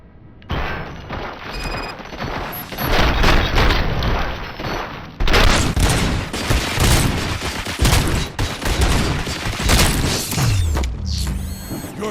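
Gunfire from the RoboCop: Rogue City video game, a sustained barrage of loud rapid shots with mechanical clatter running almost the whole stretch, ending in a brief electronic sweep.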